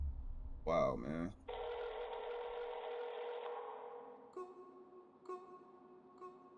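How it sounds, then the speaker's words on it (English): A telephone ringing inside a music track, a sustained electronic ring tone that swells then gives way to a few short repeated rings with an echoing quality, following a brief burst of voice at the start. "You got the phone ringing."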